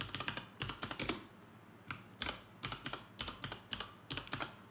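Fingers type on a computer keyboard in quiet, close bursts of clicking keystrokes, several short runs separated by brief pauses, with no talking.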